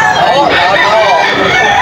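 A Golden Boy stag rooster at a wet-weather poultry market in Bocaue, Bulacan lets out a loud, close crow lasting under two seconds, with people talking nearby.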